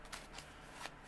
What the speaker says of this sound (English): But it's nice just to shuffle these sometimes.